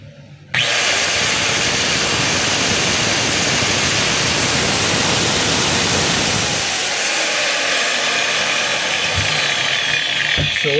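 DeWalt DWE493 angle grinder with a freshly replaced carbon brush and armature, test-run with its cover still open, starts abruptly and whines loudly and steadily at close range for about ten seconds, its tone dropping slightly partway through.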